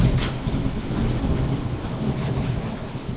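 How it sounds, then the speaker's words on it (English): Heavy rain pours steadily during the rainy season in Thailand, a dense, continuous wash of noise with a low rumble of distant thunder underneath and no voices. "It pours all day, all night until morning, and then it stops for like 5 minutes"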